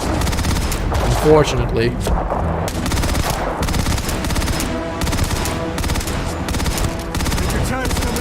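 Sustained automatic weapon fire rattles in rapid bursts from the video game Starfield, dense and loud for the whole stretch, with a player talking over the shooting.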